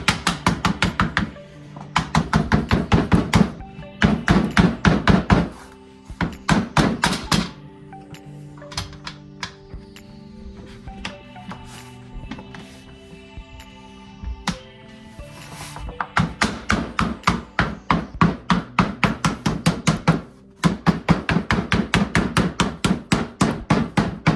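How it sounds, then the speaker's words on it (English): Dense, rapid hammer-like pounding taps as a drum pad head is seated, loud bursts in several runs with a quieter stretch of lighter scattered taps in the middle. "And then the rest of the way, where it's seated down here, just start pounding around to the top."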